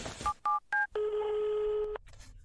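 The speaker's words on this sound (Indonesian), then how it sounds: "Teleponnya masih tidak bisa dihubungi?" Telephone dialing beeps in three short tones, followed by a longer electronic tone as the call fails to connect, heard close and clean.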